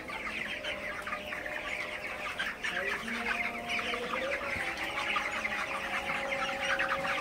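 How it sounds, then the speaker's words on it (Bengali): A crowd of broiler chickens in a poultry shed at night clucks and murmurs continuously, with overlapping calls at an even moderate level throughout and no talk. "তো আপনারা দেখতে পাচ্ছেন আসলে ব্রয়লার মুরগিগুলো।"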